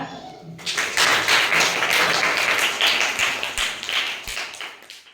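A group of children in a classroom clapping to congratulate classmates, a burst of dense, fairly close applause that starts suddenly, stays strong and then thins out toward the end.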